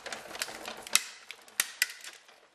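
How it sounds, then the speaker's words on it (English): A die-cutting machine rolls aluminum flashing through its plates, producing a run of mechanical crunching and ticking with several sharp clicks and snaps, close and moderately loud, fading out at the end. "you can hear it cutting the metal"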